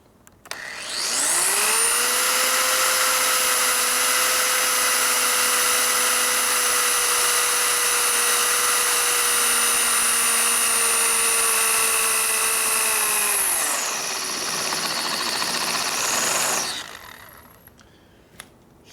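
A power drill on the motor of a 1972 Harley-Davidson XL Ironhead Sportster runs loud and close in one long steady whine for about fifteen seconds, dips briefly near the end, then stops.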